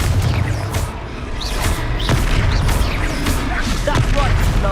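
Confringo fire spell blasts in the Hogwarts Legacy video game, loud repeated booms and bursts amid busy combat noise, with voices talking over the fight.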